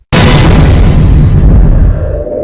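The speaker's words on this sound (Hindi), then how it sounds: "मुझे बहुत तेज धमाके की आवाज़ सुनाई पड़ी।" Bomb blast captured on CCTV at night, a single sudden loud boom that hits at once and rolls off into a long roaring, fading rumble.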